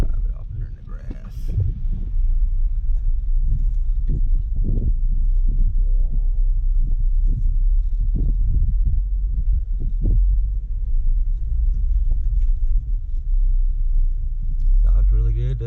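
A 2018 Chevy Equinox Premium rolls across a grassy yard, its low engine and tire rumble steady throughout, with thumps from the uneven ground and a louder surge near the end.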